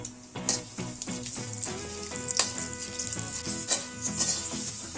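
Mustard seeds and urad dal fry in a little groundnut oil in a pan, giving a close, crackling sizzle dotted with quick sharp pops and spatters at an uneven rhythm.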